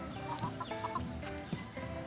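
Chickens on a farm clucking softly and continuously, several birds close by with short overlapping clucks and a faint background hum.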